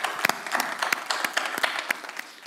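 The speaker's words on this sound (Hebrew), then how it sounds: "כפיים לקהל. כפיים לקהל." A conference audience applauds at the close of a panel on software architecture, a dense patter of claps with sharper individual slaps standing out, steady for a couple of seconds.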